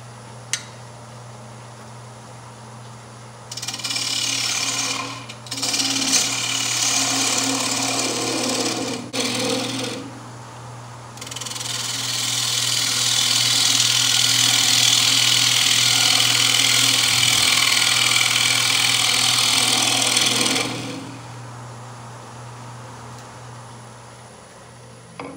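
A wood lathe turns a shallow pencil holder while a tool cuts into the spinning piece, giving a loud, steady whirring rasp in several passes. Brief bursts come early, then a long sustained cut of about ten seconds before the sound drops back to the motor hum.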